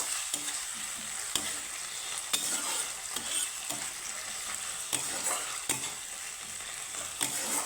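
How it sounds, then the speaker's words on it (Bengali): Two large chopped onions fry in hot oil with a little cumin in a pan, a steady soft sizzle broken by regular sharp scrapes and knocks of a spoon stirring, close and fairly quiet with no talk. "পেঁয়াজটাকে একটু হালকা করে ভেজে নেব"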